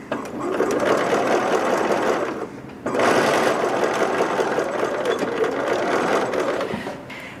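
A sewing machine stitches a seam in linen, two loud continuous runs of rapid mechanical whirring split by a brief pause, close by and alone without talk.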